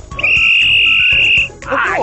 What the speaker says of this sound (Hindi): सीटी बज गया, खेल खत्म